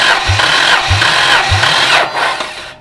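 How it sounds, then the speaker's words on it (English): An engine in a Fox body swap cranks over on the starter with the throttle open, giving a loud, close, steady churning drone with three evenly spaced low compression thumps before it winds down. "we're going to hit the starter solenoid with the power probe, and we'll see what happens with throttle open"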